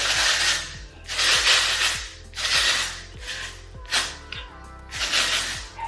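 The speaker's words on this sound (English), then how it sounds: "I'm gonna spray it with the Working Texture Spray" Hairspray, a working texture spray, sprayed onto hair in about six short, close hissing bursts at a fairly regular rhythm, with faint clicking between them.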